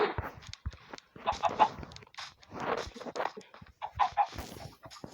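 Minecraft chickens cluck and squawk in irregular bursts, close by, with some scuffling in between and no talking.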